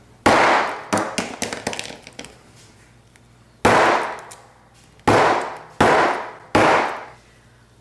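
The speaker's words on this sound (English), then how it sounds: "I'm going to take a rubber mallet and hit it a few times" A rubber mallet strikes an embossing folder holding a card, giving sharp loud whacks: one hit, a quick cluster of lighter taps, a pause, then four evenly spaced heavy blows, each ringing briefly, close up with no talk.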